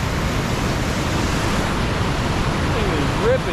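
A raging river rushes past in a dense, unbroken roar of water close by, loud and steady throughout while trout fishing.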